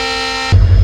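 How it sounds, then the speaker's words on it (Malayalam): Gomateshwara Express sounds its horn on departure from a station: a short, loud, steady tonal blast that cuts off abruptly into a low rumble. "ഗോമതേശ്വര എക്സ്പ്രസ് ഡിപ്പാർച്ചർ ചെയ്യുന്നതിൻ്റെ ഹോൺ അടിച്ചിട്ട് ശല്യമായി"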